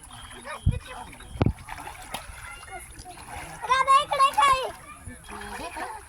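Water splashes a few times in sharp bursts while children shout and talk nearby, with laughter-like voices rising in the middle.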